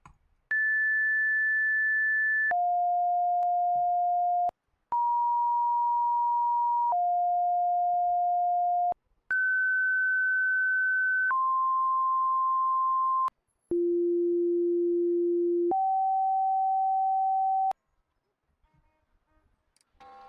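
Electronic fire engine siren tones from a firefighting video game, stepping through sustained pure pitches that jump between high and low levels, each held about two seconds, loud and clean with no talk.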